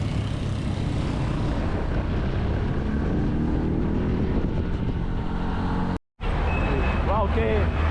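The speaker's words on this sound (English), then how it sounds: "Esos son los buses también que van por Antigua." Heavy bus engines and traffic rumble steadily through a street in Antigua, Guatemala, a loud continuous drone with a brief cut near the end, while voices talk over it.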